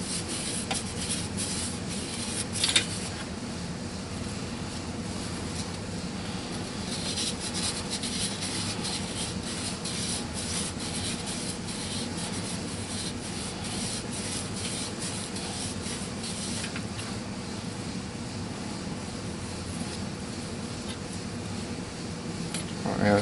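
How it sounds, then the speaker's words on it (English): Continuous abrasive rubbing of sandpaper on a metal engine part of a 2007 Mini Cooper S, close and steady for a long stretch, with brief louder scuffs near the start. "once I get done sanding this"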